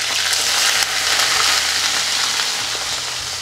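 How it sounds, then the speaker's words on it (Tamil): Onions sizzle and fry steadily in a pan over high flame, a continuous loud close crackle with faint stirring scrapes and no talking, for a Tamil amaranth greens kuzhambu. "இந்த வெங்காயத்தை வந்து நீங்கள் நல்லா 3 நிமிஷம் ஹை ஃப்ளேமில் வதக்கி விடணும்."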